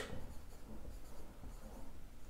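Chalk or a marker writes on a board in faint, close scratchy strokes that come in short bursts with small pauses, with no talking.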